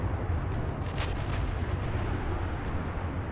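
Naval gunfire in the warship video game Ultimate Admiral Dreadnoughts: a dense, continuous low rumble of distant heavy guns with a brief sharper burst near the middle, no talk.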